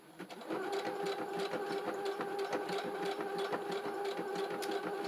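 A close sewing machine stitches decorative stitches on fabric, humming continuously with a fast, even needle rhythm for the whole stretch.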